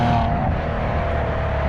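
A Maserati Quattroporte luxury sedan accelerates hard in third gear, giving a steady, loud engine and exhaust drone heard from inside the cabin, with no talk over it.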